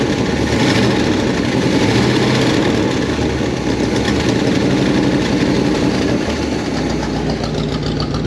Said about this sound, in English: Definitely has the exhaust leak on this side.